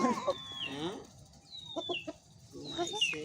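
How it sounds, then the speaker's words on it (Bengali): Chickens cluck and squawk nearby in short bursts, with a few sharp calls and quiet background voices between them. "আব্বু মুরগি ধর"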